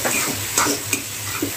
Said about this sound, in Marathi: छान असं हलवून घेऊया।